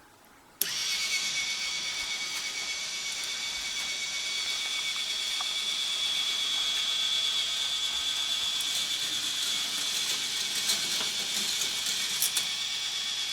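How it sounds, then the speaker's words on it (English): An electric motor drives a roller coaster puzzle car up its track, starting abruptly and then whirring and clicking steadily close by with a bright ratcheting buzz, no voices over it. "So I'm going to turn the motor on."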